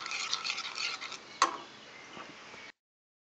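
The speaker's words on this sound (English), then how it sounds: "You're going to add some warm water into the coconut powder and mix it." A spoon stirs warm water into coconut powder in a bowl to make coconut milk, giving soft scraping and ticking strokes with one sharper clink partway through, close and quiet, with no talking.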